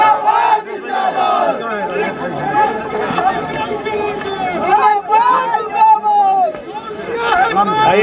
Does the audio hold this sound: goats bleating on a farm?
no